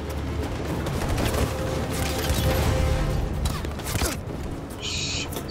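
Sustained gunfire in a battle scene from the video game Detroit: Become Human, with dense continuous volleys of shots and rumble, loud and close throughout.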